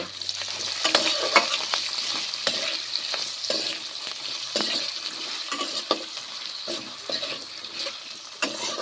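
Cut potatoes with a little turmeric and salt frying in hot oil, a continuous sizzle broken by repeated scraping stirs of a spatula in the pan, close and steady.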